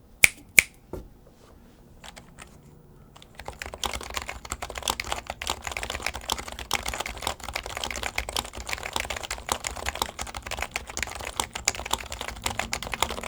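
A few sharp clicks, a brief pause, then rapid, continuous clacking of keys being typed on a compact Bluetooth keyboard, close and fairly crisp.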